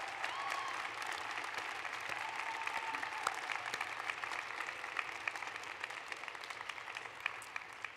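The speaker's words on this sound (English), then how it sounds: "would you please offer them a round of applause in appreciation?" A large audience at a Gonzaga graduation celebration gives a sustained round of applause. The clapping is continuous and even, with a faint murmur of voices beneath it.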